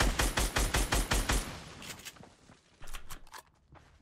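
Rapid minigun fire in Fortnite Battle Royale, a dense rattling burst of evenly spaced shots for about a second and a half, followed by scattered quieter gunshots and footsteps in the game.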